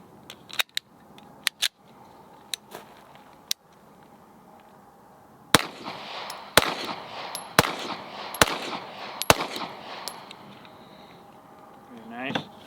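A stock Staccato P DPO pistol with no porting fires five sharp, loud shots at irregular intervals outdoors on a range, with scattered clicks and quieter talk between them.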